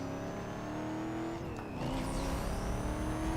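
Mitsubishi Lancer Evolution 8 engine in the Need for Speed Most Wanted racing game, a loud sustained whine that dips as the car shifts gears and then climbs again, with a brief tire squeal and no speech.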